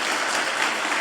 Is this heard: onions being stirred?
no